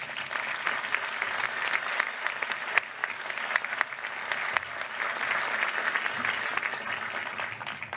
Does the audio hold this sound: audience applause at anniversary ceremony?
yes